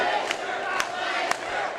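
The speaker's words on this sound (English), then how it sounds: "The crowd firmly excited." A wrestling crowd cheers and roars steadily at a CCW event, with a few sharp shouts standing out over the sustained noise.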